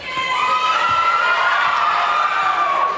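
A live-show audience cheers and whoops for the hero, a loud, sustained crowd roar with excited high voices and shouts running the whole time.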